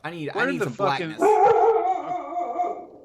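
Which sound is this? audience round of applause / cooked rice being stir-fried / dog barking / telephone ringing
dog barking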